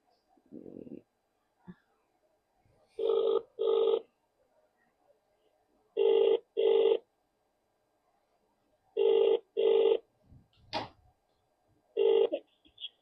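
A telephone rings out on a call in a Punjabi short drama, with four clear pairs of electronic rings at steady intervals and faint breaths and rustles in the quiet gaps.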